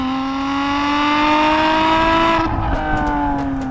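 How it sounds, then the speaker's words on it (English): A Lotus Exige EX460's supercharged V6 howls up through the revs with a rising, loud tone nearby, then the note drops as it lifts off, with a few sharp pops trailing behind. "This setup also gives the V6 engine an incredible howl"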